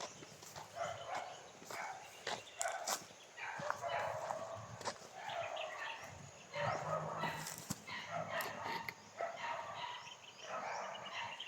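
Several dogs bark repeatedly in a video game, mid-distance yelps in irregular bursts over a steady background, with a player's voice occasionally talking.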